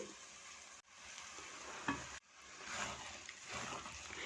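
Khoya is roasted with sugar in a pan for carrot barfi, giving a soft, steady sizzle with scraping stirs and two brief pauses in between.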